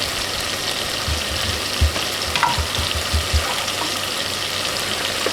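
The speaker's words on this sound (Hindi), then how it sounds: "1 टेबल स्पून के करीब में इसमें केचप ऐड कर दूँ" Spaghetti frying in a pan as ketchup is added, a steady sizzle with soft stirring scrapes and a few low thumps of the spoon against the pan, close and alone.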